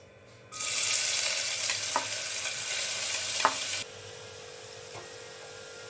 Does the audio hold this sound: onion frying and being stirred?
yes